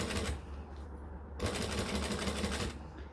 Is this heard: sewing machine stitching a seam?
yes